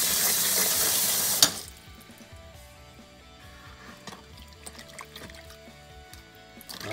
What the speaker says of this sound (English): So I'm gonna start rinsing off this corn smut now.